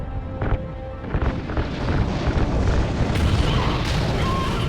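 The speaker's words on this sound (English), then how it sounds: "Ignite those RCS fuel lines." RCS thrusters ignite and fire in the Call of Duty Ghosts space mission, a loud rumbling boom that swells into a sustained roaring burn with crackling bursts.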